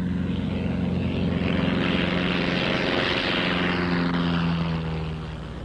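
A propeller airplane roars steadily through a takeoff or landing in a 15 mph crosswind, its loud engine drone swelling and holding before easing slightly at the end, with no voices.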